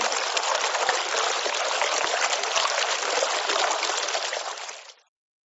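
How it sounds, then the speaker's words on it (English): Continuous rushing water, close and fairly loud, like a steady stream pouring, which stops abruptly after about five seconds. "Where's the water coming from?"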